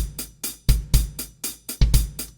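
A punchy programmed drum loop with deep kick hits and crisp snare and hi-hat strikes, repeating in a tight, steady rhythm.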